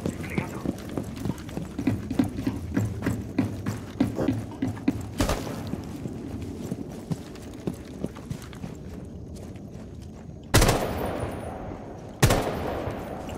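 Bursts of rapid gunfire crackle over a busy soundscape in the video game Rainbow Six Siege, ending with a couple of louder isolated shots.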